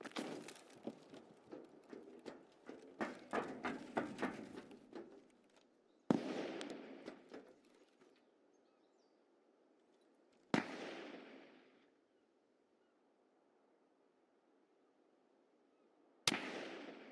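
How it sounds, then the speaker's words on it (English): Distant gunfire in the video game Escape from Tarkov, a rapid volley of sharp cracks followed by three separate single reports with long echoing tails, far off and faint. "Hearing shooting from somewhere over there."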